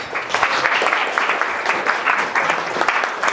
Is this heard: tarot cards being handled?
no